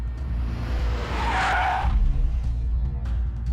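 Car brakes hard and its tires skid to a stop in a city street scene from a Telugu action film, a loud screech swelling over a steady engine rumble and then fading, with no one talking.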